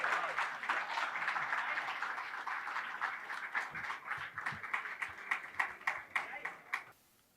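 An audience at a mushaira in Mumbai applauds to welcome a poet, sustained dense clapping that thins toward the end into separate claps before stopping, with voices heard through it.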